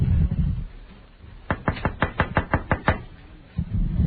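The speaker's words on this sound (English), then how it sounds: "It's that knock at the door." A rapid run of about nine sharp knocks on a door, loud and close, with quieter muffled background noise before and after.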